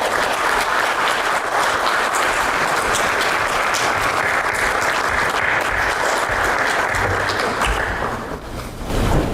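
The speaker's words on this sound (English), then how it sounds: "Please welcome him with a warm round of applause." A conference audience at a CII Partnership Summit roadshow in South Korea applauds to welcome a state minister, steady dense clapping sustained loud throughout before fading slightly near the end.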